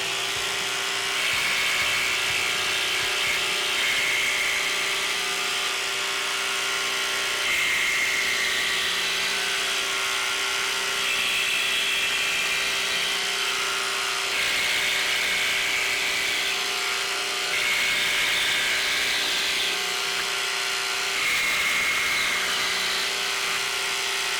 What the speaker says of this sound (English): Now we'll cut into the ply